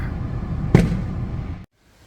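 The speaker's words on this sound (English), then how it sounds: "we're watching the fireworks from the comfort of my car in the AC" Fireworks heard from inside a parked car with the air conditioning running: one muffled, thudding boom over a steady low rumble, which then cuts off into near silence.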